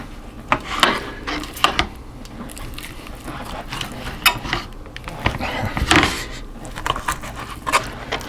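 A knife trims fat from raw pork chops on a cutting board, making irregular close cutting taps and scrapes with short rubbing strokes. Faint voices are heard in places.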